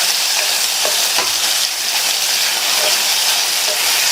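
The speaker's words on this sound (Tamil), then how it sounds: "நல்லா மறுபடியும் ஒன்று போல் பரட்டி விட்டுட்டு" Brinjal frying in a pan gives a steady, loud sizzle with scraping stirs cutting through now and then. No voices.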